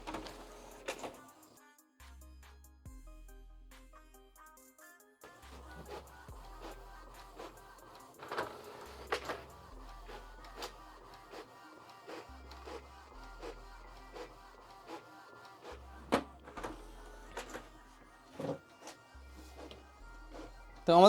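An Epson EcoTank L8050 printer prints a black and white copy, giving soft repeated whirring and mechanical feed pulses in a rhythmic cycle, faint and close, with a person talking in between.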